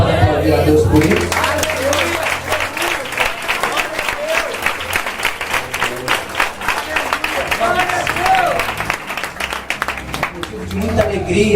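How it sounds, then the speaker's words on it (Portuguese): A church congregation claps loudly and continuously during an evening festival service, a full, sustained wave of applause with scattered crowd voices mixed in that fades at the end. "Você pode aplaudir a Deus por isso?"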